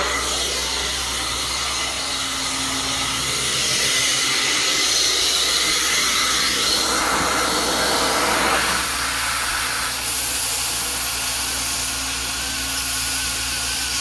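A heat gun blows hot air onto pet-urine-stained carpet during a cleaning job, a steady close whoosh with no talk, its airflow tone shifting slightly as the gun moves across the fibers.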